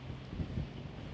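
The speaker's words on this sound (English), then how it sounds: "it's very beautiful and it is very windy" Strong wind buffets the microphone in a seaside town, a steady low rumble of gusts, faint and continuous with slight swells, no voices.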